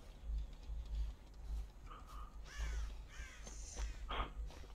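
Crows caw in a video game: several harsh, fairly close calls come in short bursts over a steady low in-game hum and scattered ticking.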